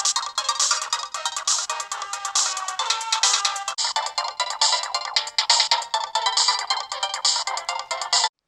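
Game intro music plays from a Hyperkin Hyper Beach SNES portable's built-in speaker, a bright, thin, tinny melody with rapid rhythmic notes running steadily for several seconds before cutting off abruptly.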